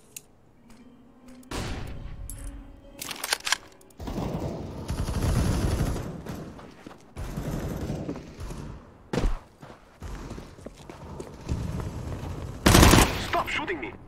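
Gunfire in the open-world western game Red Dead Redemption 2, coming in loud bursts of rapid shots separated by quieter gaps, with a harsh, crackling burst near the end.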